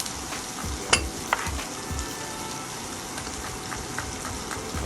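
Sliced garlic and onion fry in a pan with a steady, close hissing sizzle, broken by a couple of sharp pops or utensil clicks.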